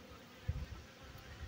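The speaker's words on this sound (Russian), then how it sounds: "которая по рамкам сейчас бегает, это рабочая пчела" Worker honeybees crawl across hive frames during a beekeeper's inspection, giving a faint, low buzzing hum over a steady hiss, with a few soft bumps.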